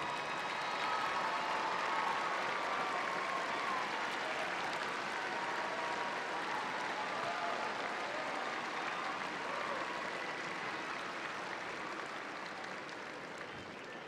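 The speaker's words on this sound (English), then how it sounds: "please stand so that we can thank you with our applause" Sustained applause from a large commencement audience at a university spring graduation ceremony, steady and dense throughout, tapering slightly toward the end.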